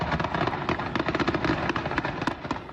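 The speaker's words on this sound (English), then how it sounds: "The sound of continuous gunfire filling the air at what was supposed to be a peaceful car event" Continuous gunfire crackles through an outdoor car event in Mexico, rapid overlapping bursts of sharp pops that sound somewhat distant and never stop, with no speech over them.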